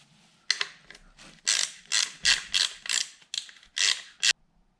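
A ratchet wrench works on a bolt holding the front guard of a DRZ 400 motorcycle. It makes a rapid series of ratcheting clicks in rhythmic bursts, close and clear, with no one talking.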